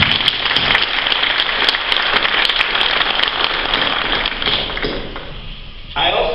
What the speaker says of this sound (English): If we can give them a round of applause for this.